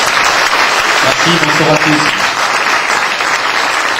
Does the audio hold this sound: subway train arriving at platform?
no